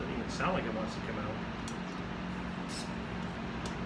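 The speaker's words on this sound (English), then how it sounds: "Sorry about the fan noise" A household electric fan whirs in a steady, faint background hiss and hum on a warm day indoors, with soft, indistinct voice sounds.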